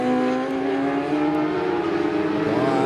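A Superstock 600 racing motorcycle at Karlskoga, in the 2016 Norwegian championship race, heads into a hairpin. Its engine holds a loud, sustained, buzzing note that starts to climb in pitch near the end.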